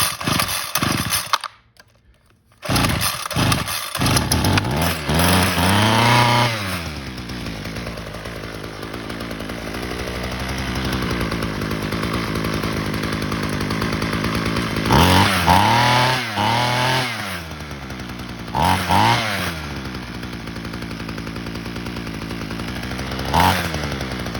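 Homelite UT32650 string trimmer engine running on full choke, a loud two-stroke drone close by that surges and dips in revs several times, with a brief stall-like drop near the start.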